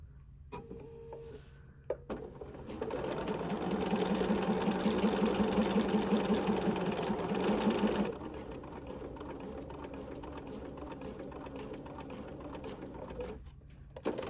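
A sewing machine stitching quilt fabric runs steadily for several seconds with a fast, even mechanical chatter, then slows and stops, leaving only quiet background.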